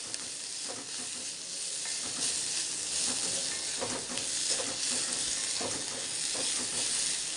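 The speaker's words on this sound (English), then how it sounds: "Now saute all these items till the onion is translucent and the coriander leaves also wilted." Onion and coriander leaves sauteing in a pan give a steady, broad sizzle and hiss throughout, with soft stirring scrapes dotted over it, close and even, with no voices.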